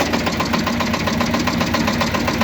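A Shifeng tractor engine runs steadily with its hydraulic pump engaged to lift ploughs, giving a loud, continuous mid-pitched drone with a slight knocking pulse and no speech over it.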